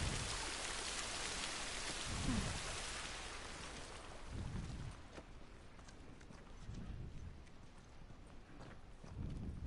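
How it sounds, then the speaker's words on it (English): Steady rain falls throughout a scene in the video game The Last of Us, a broad constant wash of drops with low rumbling thuds recurring every couple of seconds underneath. "at least we're out of the rain"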